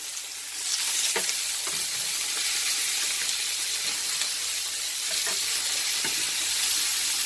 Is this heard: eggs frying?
yes